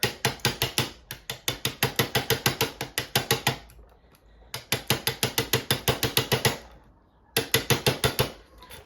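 Rapid bursts of sharp mechanical tapping against a thumb turn lock, loud and close, in three machine-gun runs separated by short pauses.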